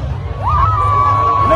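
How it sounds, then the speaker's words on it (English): A crowd at a Viking festival skirmish in York cheers and whoops loudly, with a rising whistle-like shout carrying over the roar of the gathered spectators. "So let's get a cheer."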